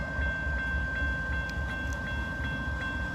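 A Norfolk Southern freight train led by ES44AC and AC44C6M locomotives rolls along the Paducah and Louisville Railway at Madisonville, Kentucky, with a loud, continuous low rumble, a steady tonal whine and faint rhythmic wheel clicks.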